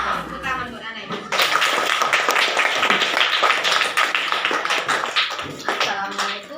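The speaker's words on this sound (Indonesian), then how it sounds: "Tepuk tangan buat anak ini" A class of fourth-grade schoolchildren claps for a child, a dense, steady patter of many hands close by that runs for several seconds.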